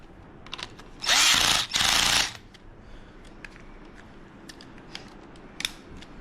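Tightening motorcycle clutch and brake levers: two short bursts of a power driver whirring close up, followed by quieter clicks, taps and handling noises on the handlebar.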